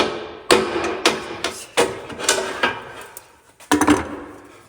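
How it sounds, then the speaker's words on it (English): A hammer strikes several times to mark bolt hole positions on a Kenworth truck cab part, the sharp whacks irregularly spaced and close, with a quick double hit near the end. "I'll give this a whack"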